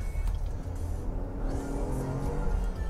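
A Cadillac SRX V6 VVT SUV accelerates on a US street, its engine building into a smooth, rising roar heard from inside the car, with no talking.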